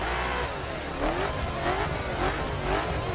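A Maserati engine in the racing video game The Crew drones and revs steadily at high pitch, the tone swelling and easing in waves over tire noise, loud and continuous with no voices.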